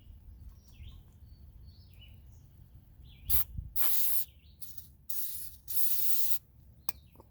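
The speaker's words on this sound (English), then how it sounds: "Give it a spray." Several hissing bursts of an aerosol rust-proofing spray can, short then longer sprays with pauses between, close and fairly loud over a quiet background.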